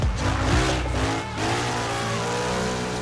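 A car engine revs hard in Assetto Corsa, a driving game with an F310 SP car mod, the tone climbing and falling with tyre noise during a drift; loud and steady throughout, with no voices.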